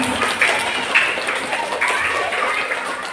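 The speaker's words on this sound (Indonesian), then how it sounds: "Tepuk tangan untuk anak-anak Asafina." Parents and guests applauding young kindergarten children at a school graduation ceremony, a steady patter of clapping at moderate level lasting a few seconds, with faint voices beneath.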